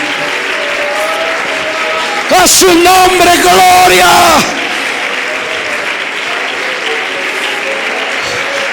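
A church congregation claps steadily throughout while voices shout and call out loudly over the clapping for a couple of seconds partway through.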